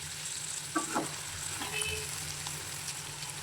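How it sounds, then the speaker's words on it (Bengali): Bitter gourd (karela) bhaji frying in a pan while being stirred, a quiet steady sizzle with scattered utensil clinks and scrapes, no talking. "দশ মিনিট করে ঢাকনাটা উঠিয়ে এখন ভালোভাবে নাড়াচাড়া করে দিচ্ছি ভাজি অলমোস্ট হয়ে গিয়েছে"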